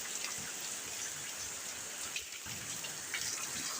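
Rain falls outdoors during a heavy downpour, making a dense, continuous patter and hiss with occasional nearer drips, steady and moderately faint throughout.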